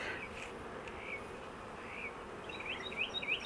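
Honeybees hum around an open nucleus hive during an inspection, a soft steady buzz with a few individual bees droning past close by, no voices.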